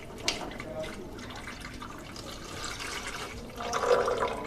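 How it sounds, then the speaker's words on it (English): Water splashes and trickles into a coffee machine water tank with a float sensor at close range, growing a bit louder toward the end, with a faint low background murmur. "If I put water in the tank,"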